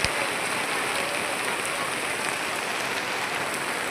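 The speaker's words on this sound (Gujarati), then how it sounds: "વરસાદ ચાલુ થઈ ગયો તો અડધો કલાક જેવો રહી ગયો તો પાછો ચાલુ થઈ ગયો" Steady rain hisses continuously, an even wash of falling drops with no voices.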